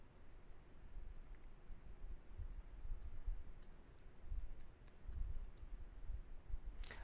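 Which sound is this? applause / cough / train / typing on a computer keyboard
typing on a computer keyboard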